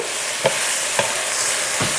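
Food fries in a pan with a steady sizzling hiss, punctuated by three sharp stirring scrapes at regular intervals.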